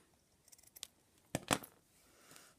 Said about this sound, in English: I'm just going to cut a piece off.